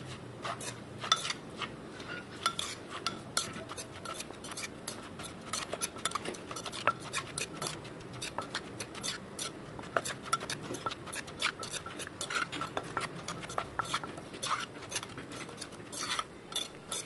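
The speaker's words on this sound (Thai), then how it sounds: "จากนั้นก็ตำต่อได้เลยค่ะตำให้ส่วนผสมเข้ากันค่ะ" Green mango salad with pickled fish and salted crab pounded in a mortar, repeated sharp knocks and scraping taps at an irregular, busy rhythm, close and fairly quiet over a soft background, no speech.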